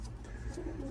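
Racing pigeons in a loft give a faint, low, soft cooing under a quiet background hum, heard only in a brief moment.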